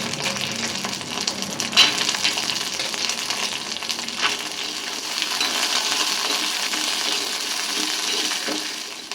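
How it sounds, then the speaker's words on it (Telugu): Peanuts dry-roasting in a pan for a chutney to go with moong dal dosas, giving a steady, close sizzling crackle with scattered light rattles and stirring clicks throughout, no talking. "సో అందుకనేసి వేరుశనగులు కూడా వేయించుకుంటాను"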